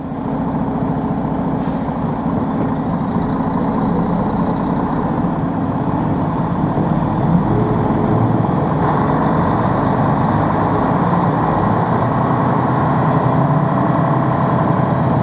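A Detroit DD13 diesel engine in a truck idles in Chicago traffic, a loud, steady low rumble with a gritty mechanical clatter, heard close from the cab, with no talk over it.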